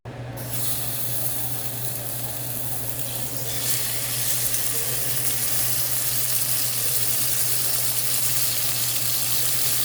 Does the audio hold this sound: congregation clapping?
no